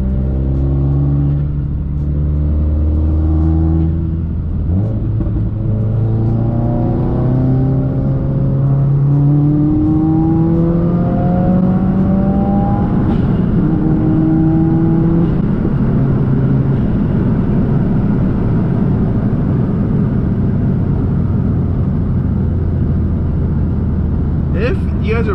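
A 400+ whp Subaru WRX engine revs loud and close, its pitch climbing and falling in repeated pulls over a steady rumble, with turbo whooshes and a few sharp pops near the end; a voice talks over it.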